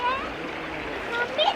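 Two people play in river water in Rishikesh, with brief splashing close by under overlapping voices.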